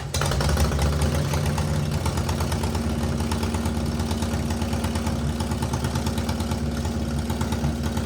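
A Shovelhead motorcycle engine with freshly reworked cylinder heads runs steadily on a stand, a continuous low throbbing idle with an even mechanical knock, close and unbroken throughout.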